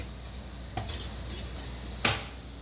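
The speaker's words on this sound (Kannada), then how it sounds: "ಇದನ್ನೆಲ್ಲ ಚೆನ್ನಾಗಿ ಫ್ರೈ ಆಗಬೇಕು." Cumin seeds fry quietly in hot oil in a pan, a soft steady sizzle broken by a couple of sharp utensil clinks against the metal.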